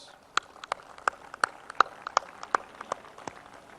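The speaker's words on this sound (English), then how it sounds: "they all deserve a big round of applause" Sparse, scattered handclaps from a small gathering at the closing ceremony of the Bangabandhu Sheikh Mujib Dhaka Marathon, about a dozen sharp, uneven claps over a faint room hum.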